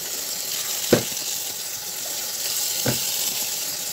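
Eggplant and egg frying in a pan, a steady, close sizzle that runs throughout, broken by two brief clicks or knocks.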